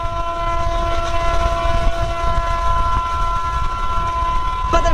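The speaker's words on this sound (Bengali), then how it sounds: "আর এই যে ট্রেন আমাদের" Train running along the Bhutan border near Kurigram, a steady close rumble with tonal horn-like hum throughout, continuous and loud with no pauses.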